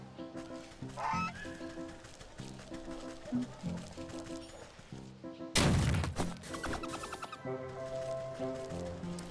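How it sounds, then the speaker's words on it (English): Repeated loud goose honks over a busy game soundscape, with a sudden crashing burst midway and more honking afterward, in the video game Wytchwood. "Ah! It's the goose who laid the golden egg!"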